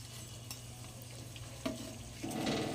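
Gujiya fry quietly in hot oil with a faint, steady sizzle and a few soft scrapes and clinks of a utensil in the pan, swelling briefly louder near the end, no voices.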